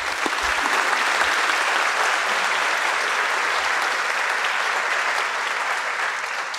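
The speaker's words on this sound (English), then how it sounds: "Let's give them a round of applause." Sustained applause from a crowd at a police academy graduation ceremony, a steady dense wash of clapping that holds at an even, loud level throughout with no break.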